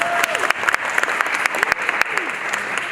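Audience at a girls' flag football event applauding, a dense steady burst of clapping close by with a few louder individual claps standing out, lasting a few seconds.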